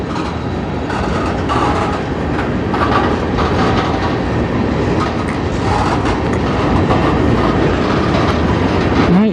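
A CN freight train rumbles slowly past nearby into a yard, wheels clacking in an irregular rhythm over the rails with a faint squeal near the end.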